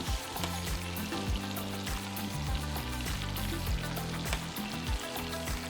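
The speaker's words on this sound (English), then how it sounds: "They're just chilling in a nice little hot oil bath." Taiwanese popcorn chicken frying in a hot oil bath, a steady dense sizzle with crackling bubbles running throughout at moderate level, no voices.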